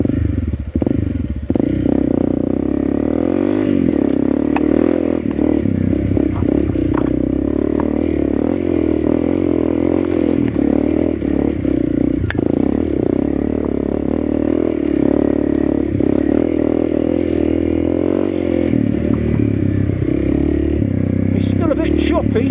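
A CRF 301cc dirt bike ridden offroad through jungle, its engine droning steadily and loud with rattles and scrapes from the rough ground, and a rider talking over it.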